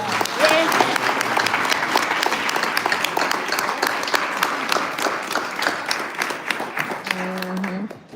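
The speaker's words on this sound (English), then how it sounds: "ask everybody to give a round of applause to the employees for the Village of Dolton" Audience applause fills a village board meeting in Dolton, a steady dense wash of clapping sustained for about eight seconds, with some voices and a brief tonal sound near the end.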